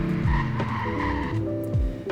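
A Ferrari FF brakes hard, its tires squealing and skidding in short bursts over a low engine rumble, loud and close with no talking.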